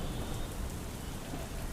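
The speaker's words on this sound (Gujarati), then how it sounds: "તાપીની અંદર પણ ભારે વરસાદી માહોલ જામ્યો છે" Heavy rain falling in Tapi, Gujarat during a storm, a steady dense hiss of rain on surfaces, fairly faint and continuous with no voices.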